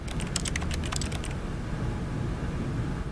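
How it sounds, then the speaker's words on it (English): Keyboard key clicks from pressing E in The Stanley Parable video game, a quick burst of about a dozen sharp taps in the first second and a half, then only a steady low background hum. "If you press E, you always make the keyboard noise no matter what."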